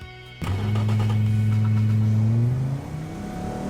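A delivery van engine in the BeamNG driving game revs hard as it accelerates on a test track, a loud rising mid-pitched drone that climbs steadily then drops off as the throttle eases.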